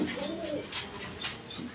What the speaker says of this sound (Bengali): দর্শকবৃন্দ এখানে এক পেয়ার কবুতর আছে আপনার